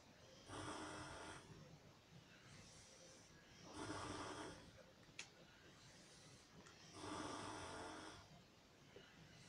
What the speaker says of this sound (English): The snoring's actually a huge upgrade from my last roommate.